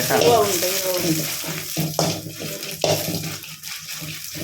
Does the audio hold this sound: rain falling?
no